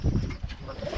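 Birmingham Roller pigeons give soft, low cooing close by in their loft, a brief murmuring burst with no talk over it.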